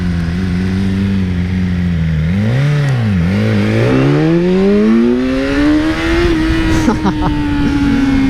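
A 2018 BMW S1000R motorcycle engine revs up and down in loud swoops, then climbs steadily toward about 9,000 rpm and holds a high, strained note close by.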